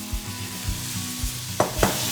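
Zucchini and other vegetables being stir-fried in an oiled pan for Korean wolgwachae: a steady sizzle with soft, regular spatula strokes about every half second, and two sharper scrapes near the end.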